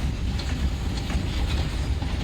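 A train rolls along the railway near a coal stockyard in the Lanjigarh hills of Odisha, a steady broadband rumble with faint rhythmic wheel clatter, close and continuous, with no voices.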